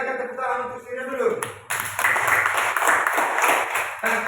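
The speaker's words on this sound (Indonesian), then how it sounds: "silakan tepuk tangan untuk Sirio dulu" A class of pupils claps for a classmate in a school lesson, a burst of dense, fairly close applause rising sharply after a short spell of talk and continuing steadily to the end.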